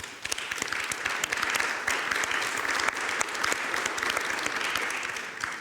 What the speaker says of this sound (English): Some applause for this project.